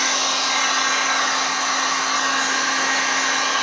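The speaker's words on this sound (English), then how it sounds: "I can run over it with the heat gun for a minute and make it more dry" A heat gun blows steadily over resin on a tile coaster, a loud, constant whooshing roar with a fixed motor hum that stays level from start to finish, close to the listener with no voices.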